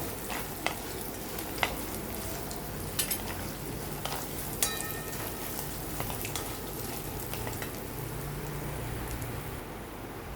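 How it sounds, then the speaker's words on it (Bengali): Grated coconut fries in oil for a stuffed bitter gourd dish, giving a steady crackling sizzle broken by a few sharp taps of a spatula against the pan, close and free of talk. "নারকেলটাও দিয়ে দেবো এই তেলের মধ্যে। এটাকেও ভেজে নেব একটু।"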